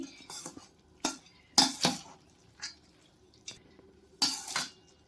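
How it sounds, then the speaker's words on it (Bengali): A spoon stirring ingredients in a bowl for a boondi sweet: sharp metallic clinks and scrapes come in irregular clusters close by, with quiet gaps between strokes. "ভালো করে মিশিয়ে নিচ্ছি"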